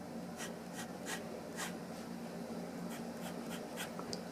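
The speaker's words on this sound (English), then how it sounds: "you could hear that the tine probably scratches against the paper" Nakaya Piccolo fountain pen nib scratching across paper, a series of quick soft strokes repeating roughly twice per second, close and faint over a quiet background hum.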